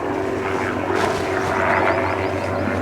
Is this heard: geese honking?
no